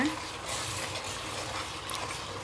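A spoon stirs mutton biryani masala of ginger-garlic paste, tomato, onion, green chillies and whole spices in a pot, giving soft scraping and a low sizzle close by, without audible talk.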